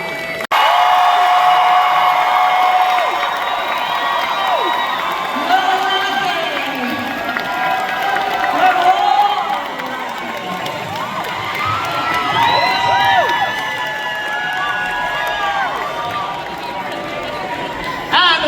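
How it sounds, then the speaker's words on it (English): A large crowd cheers and shouts continuously at a Rocky Horror 50th anniversary costume contest in Detroit, with whoops and scattered clapping rising and falling over several seconds. "Round of applause to everybody who entered the costume contest."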